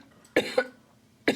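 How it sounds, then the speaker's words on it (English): A patient lets out a short burst of coughs, two quick close coughs followed by a third after a pause, clear and alone in a quiet room. "I feel like coughing now."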